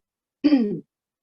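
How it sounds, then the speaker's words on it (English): A single short throat clearing, close and fairly loud, lasting under half a second with silence before and after. "I'm going to be clearing my throat a lot"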